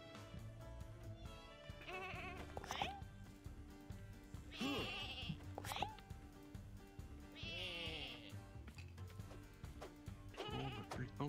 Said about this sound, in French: Les moutons, les moutons, les moutons, m'énervent.